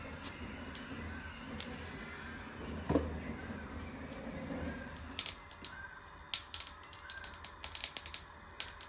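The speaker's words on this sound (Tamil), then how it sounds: "கடுகு வெடிச்சிருச்சா?" Mustard seeds popping in hot oil while tomato kuzhambu is being cooked. Faint sizzling comes first, then a burst of quick, sharp, irregular crackles and pops.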